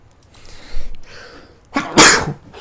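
A single loud, close sneeze comes after a soft intake of breath, standing out against a quiet background.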